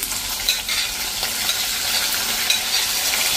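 Chopped tomatoes and beans sautéing in hot oil in a pan, a steady bright sizzle with faint stirring scrapes throughout, loud and close with no talking.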